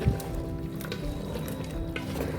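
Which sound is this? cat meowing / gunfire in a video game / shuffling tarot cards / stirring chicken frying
stirring chicken frying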